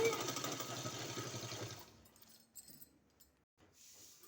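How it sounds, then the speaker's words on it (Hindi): A sewing machine stitches a sleeve in a fast, buzzing mechanical run that stops abruptly about halfway, followed by faint handling noises and near silence. "इसमें हमको सिलाई लगाना है इस तरह से"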